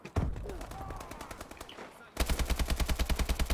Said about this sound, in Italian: Sono gli stessi colpi che gli ho sparato